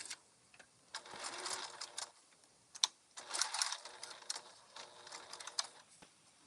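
Juki TL-18Q sewing machine running in short top-stitching bursts, close and clear, with a rapid mechanical rattle that starts and stops several times and leaves brief pauses between runs.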